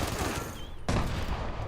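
Dense, continuous gunfire in Fallout 76 with heavy layered bursts throughout and a sharp louder volley just before the end, close and loud.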